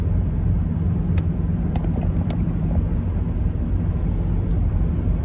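A car cruising along Highway 60, with a steady, loud road rumble and low engine drone that continues unbroken for the whole stretch, with no talking.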